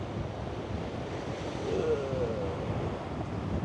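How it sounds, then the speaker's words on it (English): Southern Ocean surf crashes and rolls on shore at an off-grid camp site where people are fishing for salmon, with steady wave wash and heavy wind buffeting the microphone. "Got to time these waves."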